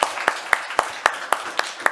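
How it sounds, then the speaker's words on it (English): Rhythmic clapping from a conference audience at the end of a long day, a steady evenly spaced beat of sharp claps, about four per second, fairly close and clear. "I think we have to applaud ourselves because today it was a very long day"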